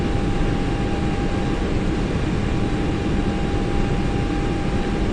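A plane in a flight simulator video game gives off a steady, dense engine and wind roar that stays constant throughout, with a faint thin tone running under it and no voices.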